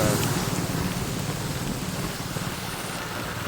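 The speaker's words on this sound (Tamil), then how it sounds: "மழை விடுகுது இல்லை" Steady heavy rain pours down in Sanganai, Jaffna, a dense continuous hiss of drops drumming on surfaces nearby, loud and unbroken with no voices.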